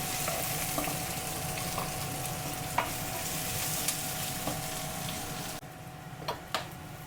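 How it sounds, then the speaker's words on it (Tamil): Onions frying in a pan as the base for tomato prawn rice, a steady close sizzle with occasional stirring scrapes, fairly soft overall, no talking. "வெங்காயம் போட்டு கொஞ்சம் பொன்னிறமாக வதங்கணும்"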